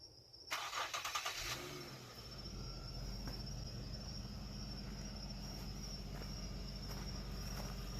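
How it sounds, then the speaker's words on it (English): An Infiniti G37 starts by remote at night: a brief starter crank, then the engine catches and settles into a steady low idle, with crickets chirping continuously in the background. "I'm gonna remote start the car"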